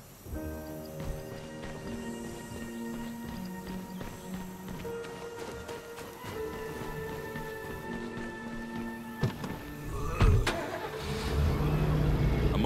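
A car engine in the zombie survival game State of Decay cranks, catches and settles into a steady running drone, then revs up louder toward the end, with clip-clop and clunking game sounds layered underneath.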